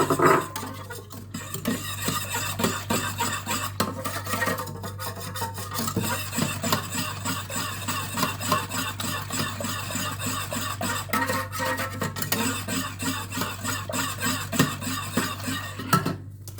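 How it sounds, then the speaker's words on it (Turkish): Starch and egg yolk are whisked together in a bowl for a milk pudding, a steady stream of quick rhythmic scraping strokes that carries on for several seconds, close and fairly quiet, with no talking. "Bunları şimdi güzel çırpalım."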